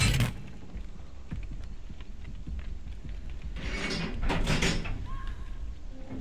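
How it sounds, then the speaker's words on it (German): In the horror game Dead by Daylight, an exit door grinds open as a mechanical rattling and scraping that rises for under a second and then fades, set against a low ambient drone. "Ich muss wenigstens versuchen, die andere Tür zu öffnen."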